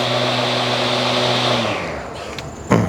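A SCAG mower engine runs at a steady, loud idle, then is switched off and winds down to quiet, with a couple of faint clicks and a small thump after it stops.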